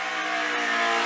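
A hill climb race car at Shelsley Walsh blares past at full throttle, its engine a loud, sustained high-pitched howl held steady for a second as it crosses the finish line.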